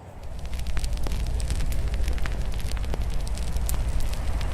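Wood fire burning in a backyard fire pit, close up, with a steady roaring rush dotted with sharp, irregular crackles and pops throughout, and no talking.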